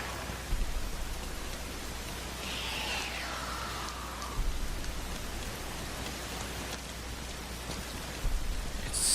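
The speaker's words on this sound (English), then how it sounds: "it's calming just to hear rain" Steady rain falls in a video game, an even hiss of drops across the whole stretch with a few brief louder spatters, no voices.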